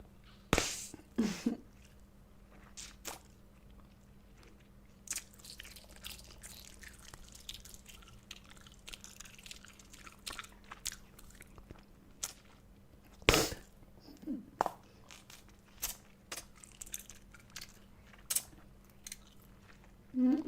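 Blow Pop bubble gum being chewed close up, sparse wet smacks and clicks scattered over a quiet background, with no talking.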